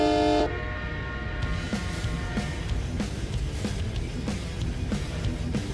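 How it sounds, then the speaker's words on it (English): In a trucking video game, American Truck Simulator or Euro Truck Simulator 2, a train horn gives a short toot at the start, then steady road rumble with faint rhythmic clicks takes over. "Oh, I heard the train."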